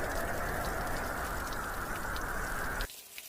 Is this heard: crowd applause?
no